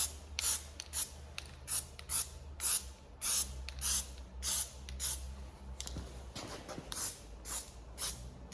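Short hissing bursts of an aerosol spray can laying a light coat of paint on Volkswagen Golf GTI MK2 parts in a freezing-cold garage, about a dozen evenly spaced puffs, close and clear with no talk.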